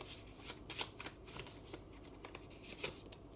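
Tarot cards being shuffled by hand: soft, close riffling and flicking with irregular papery bursts, quiet and continuous throughout.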